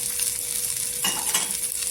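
Continuous crackling sizzle of washed curry leaves dropped into hot oil, steady and close, with a brief louder burst partway through.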